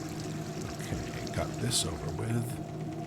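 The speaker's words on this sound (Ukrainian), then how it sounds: "Кстати, а чого тут протікає? А ви воду економити не хочете?" Water leaking and pouring in the game Dark Fracture, a steady close trickle and splash running throughout at moderate level, with a voice speaking over it.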